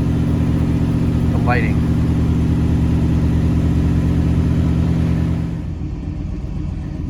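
A 1986 Oldsmobile 442 idles a little high, a steady close rumbling drone with even pulses. It eases down slightly near the end, and a voice briefly speaks over it.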